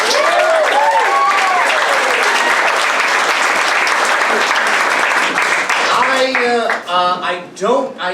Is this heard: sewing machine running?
no